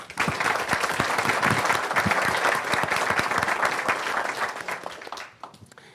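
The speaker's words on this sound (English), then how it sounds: "let's have a round of applause for Mohammed Al-Masheka" Symposium audience applauds an award winner at an annual information security awards ceremony: a dense, steady round of many hands clapping that holds for about five seconds before thinning and dying away.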